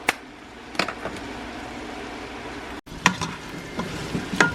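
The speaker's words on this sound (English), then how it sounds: "So you stir all that up" Potatoes seasoned with black pepper, Lawry's seasoning salt and ground thyme being stirred in a cooking pot, with scattered scrapes and knocks of the spoon over a steady sizzling background and a brief dropout midway.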